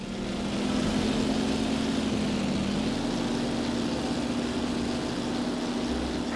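A WWII fighter plane takes off in the combat flight game Damage Inc, its propeller engine a loud, steady drone that holds throughout with a slight shift in pitch midway.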